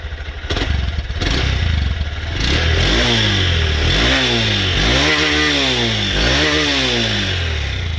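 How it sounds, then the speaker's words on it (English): A 2023 Honda CB125F single-cylinder motorcycle engine starts with clattery idle and then revs repeatedly, several rising and falling throttle blips close up, loud and alone. "This bike definitely does sound different."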